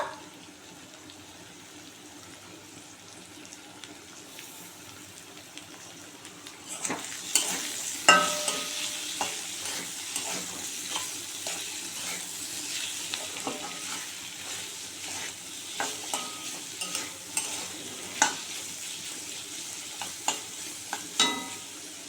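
Garlic paste hits a hot pan of mushrooms after a quiet start, then a steady sizzle and frying hiss continues with scraping stirring strokes throughout.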